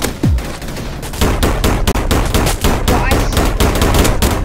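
Rapid gunfire in a first-person shooter game, with bursts of sharp, loud shots rattling almost continuously, closely spaced and dense, with a brief swooping tone at the start.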